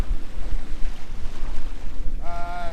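Paddling a small boat home through a coastal slough toward a creek near a beach, with steady wind buffeting and water sloshing throughout, close and continuous, plus a brief high whistling tone near the end.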